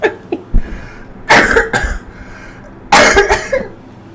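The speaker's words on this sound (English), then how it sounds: "I'm going to cough." Two bursts of harsh coughing, close and loud, each a cluster of rough hacks separated by a short pause, with a faint throat noise at the start.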